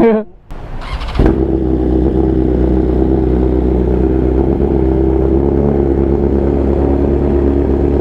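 A 2022 Kawasaki ZX10R sport bike engine catches after a brief cranking burst, then settles into a loud, steady idle that runs close by for the rest of the clip.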